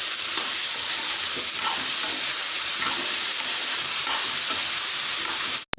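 Salt, turmeric and red chili powder are stirred in a hot pan, giving a steady frying sizzle with soft, repeated scraping strokes, loud and close, ending in a sharp clatter.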